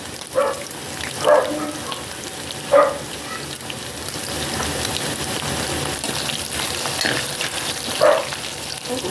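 Onions sautéing in a pan for pork adobo with potatoes, a steady close sizzle and frying hiss with several sharp stirring scrapes and clanks scattered through.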